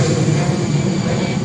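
An airplane passes close by near an airport with a loud, steady engine roar that fills the whole brief moment and has no other sounds over it.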